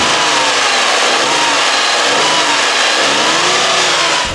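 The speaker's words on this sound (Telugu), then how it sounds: "ఫస్ట్ మనం దీన్ని ఒక ఇంజన్ సౌండ్ అయితే తిందాం" The three-cylinder engine of a Tata Punch car revs loudly and close up, a sustained, throaty drone with shifting pitch across the whole stretch.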